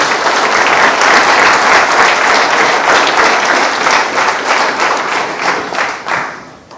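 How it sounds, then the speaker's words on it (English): A large audience at a county government address applauds loudly and continuously, dense clapping from many hands that holds steady before tapering off near the end. "Please give them a round of applause."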